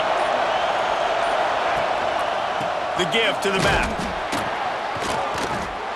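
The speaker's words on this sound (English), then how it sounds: "This crowd, full throat, spreading the eardrums and letting them know it's going to be a long day." A stadium crowd in EA Sports College Football 26 roars in a steady, full-throated wash of noise, with a commentator talking over it and a brief burst of thuds and shouts midway.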